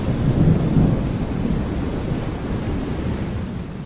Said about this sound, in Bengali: শুধু বৃষ্টির শব্দ, আর আকাশ থেকে শোনা যায় মেঘের গর্জন।